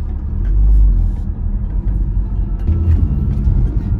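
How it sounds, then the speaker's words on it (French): A car rumbles steadily from inside as it is driven, a low, loud engine and road drone that swells and eases slightly with no talking. "J'ai envie de vous montrer mes capacités en voiture"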